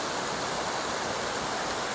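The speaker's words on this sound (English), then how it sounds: "More water. These are called the hardcore cascades." Cascading waterfall along a hiking trail, a loud, steady full-band rush of falling water close by, with no talking.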